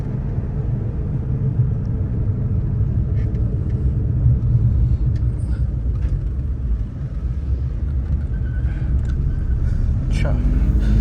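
A Suzuki Alto VXR 660cc with an automatic conversion cruises at low rpm, giving a steady, deep engine and road rumble heard from inside the car throughout.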